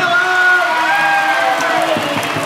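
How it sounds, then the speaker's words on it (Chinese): A loud, continuous crowd applauding and cheering at an outdoor carnival on Penghu island, welcoming university students onstage, with sustained tones ringing over the clapping throughout. "让我们以最热烈的掌声欢迎我们彭哥大的朋友们"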